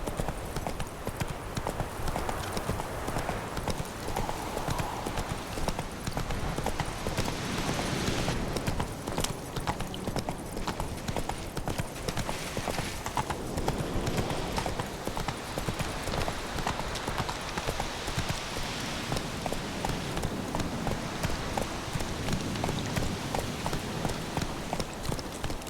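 Roach, a horse in The Witcher 3, gallops steadily with a continuous fast clip-clop of hooves close by, rushing ambient noise beneath, and brief voices now and then.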